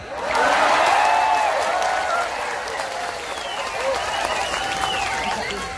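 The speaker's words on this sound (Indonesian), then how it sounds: "Nah, yang terakhir harus kenceng tepuk tangannya," An audience at a live Islamic religious gathering in Taichung, Taiwan, breaks into loud, sustained applause that swells early and then holds steady, with voices and cheers mixed into the dense clapping.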